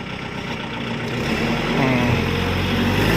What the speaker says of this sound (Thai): อันนี้เป็นรถไถดัดแปลงเป็นรถคีบนะครับ ไว้สำหรับคีบ ปาล์มน้ำมันครับ